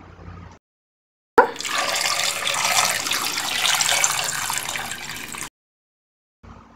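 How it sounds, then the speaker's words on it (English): Water pours steadily from a tap into a pot of tapioca (cassava) seasoned with turmeric and salt, a continuous splashing rush lasting about four seconds, close and clear, with brief quiet gaps before and after. "Let's also add a little bit of water into this."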